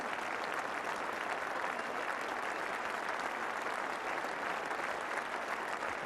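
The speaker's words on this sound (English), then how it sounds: "nice to see the whole of the England side applauding Alan Border on his way up these famed pavilion steps" Players and spectators at a 1985 Ashes Test cricket match at the Oval applaud a batsman climbing the pavilion steps, a dense, even wash of clapping that holds steady for several seconds at moderate distance.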